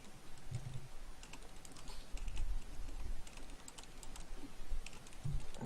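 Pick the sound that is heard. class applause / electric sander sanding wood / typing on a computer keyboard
typing on a computer keyboard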